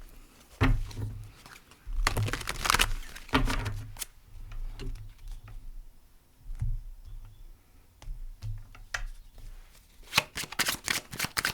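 Tarot cards are shuffled close by in repeated riffling bursts with brief pauses between them, soft papery flutters and clicks, no talking.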